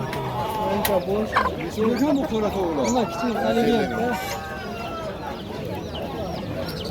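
Roosters and chickens cluck and crow close by at a busy poultry market, a dense layer of fowl calls running throughout with people talking over them.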